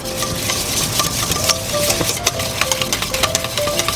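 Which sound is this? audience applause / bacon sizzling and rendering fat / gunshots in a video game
bacon sizzling and rendering fat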